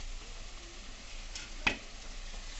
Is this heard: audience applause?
no